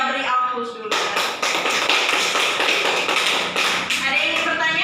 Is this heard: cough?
no